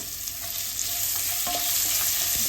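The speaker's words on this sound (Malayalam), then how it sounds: "സവോള ഒന്ന് കളർ മാറണ വരെ ഇളക്കുക" Chopped onion frying and being stirred in a pan with garlic, a continuous close sizzle with occasional utensil scrapes and clicks against the pan.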